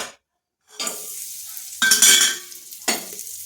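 Raisins frying on their own in a hot pan for jaggery kesari bath, a loud steady sizzle broken by a few bursts of stirring and scraping, after a moment of silence at the start.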